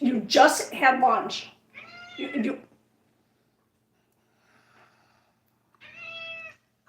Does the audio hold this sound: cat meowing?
yes